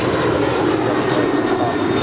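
A six-year-old United Airlines Boeing 737-900ER jet departs LAX for Cancun, its engines a loud, steady broadband roar that holds at close range throughout.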